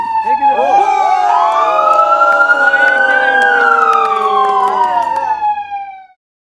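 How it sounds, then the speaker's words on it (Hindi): A loud wailing siren rises and falls in long sweeping tones for several seconds, close and dominant, then cuts off abruptly. "फिर से सायरन हमेशा बजता रहता है"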